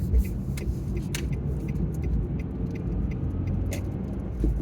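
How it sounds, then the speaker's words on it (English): A car accelerating to overtake a lorry on the road, with a steady engine and road rumble under faint, irregular rattling clicks, heard from inside the cabin. "Put my foot down, get around the lorry."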